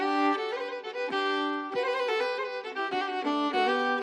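A violin plays a sequence of sustained, bowed notes in a steady melody, heard alone and fairly close.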